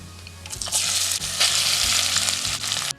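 Sliced onions hit hot oil with star anise and cumin seeds, sizzling loudly and steadily with bursts of hissing and stirring scrapes, close up and without speech, for an Afghani Kabuli pulao.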